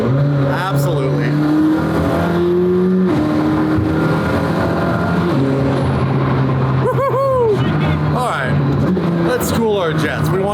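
A carbon McLaren Senna in race mode accelerates hard, its loud engine climbing in pitch through stepped gear changes while people talk over it inside the car.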